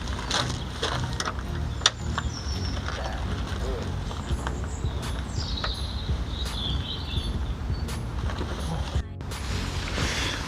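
A 13mm spanner working the strut brace bolts on a modified Mk6 Ford Fiesta, giving repeated metallic ratcheting clicks and occasional sharp knocks over steady background noise.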